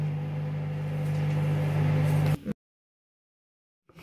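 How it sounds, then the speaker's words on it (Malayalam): Microwave oven humming steadily while cooking a mug cake, a constant drone for about two and a half seconds that stops abruptly, then silence. "ഓക്കെ, അപ്പൊ ഇതിന് ഞാൻ ഇനി 1 മിനിറ്റ് മൈക്രോവേവ് വെക്കാൻ പോവാണ് കേട്ടോ."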